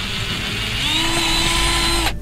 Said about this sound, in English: we're drilling small pilot holes so that we know where to put in our hooks